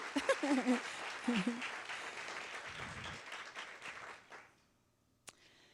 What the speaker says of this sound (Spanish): Si le va a dar un aplauso, déselo, pero grande.